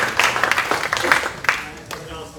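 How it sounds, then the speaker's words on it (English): At a finance conference, an audience gives the panel moderator a short round of uneven clapping, with separate claps standing out as the applause tapers off. "let's give him a round of applause"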